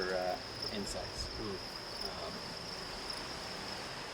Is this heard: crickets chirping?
yes